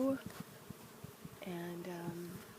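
Honeybees buzz around a blooming tree, a steady droning hum with a clear rising tone near the middle, while a voice talks over it at a low level.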